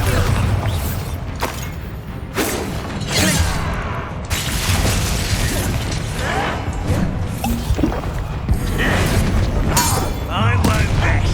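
Confringo explosion spell in Hogwarts Legacy, repeated loud fiery blasts and thumping impacts amid constant battle clamor, close and dense, with talking over much of it.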